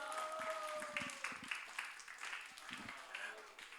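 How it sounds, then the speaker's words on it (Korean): A high school youth congregation at a Sunday church service claps in a burst of applause, fairly faint and uneven, with speaking and cheering voices mixed in. "여러분 큰 박수 주시기 바랍니다"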